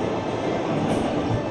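A train locomotive in the video game Syberia II rolls along steadily, its dense, continuous rumble and rail noise holding close and loud throughout, with no voices.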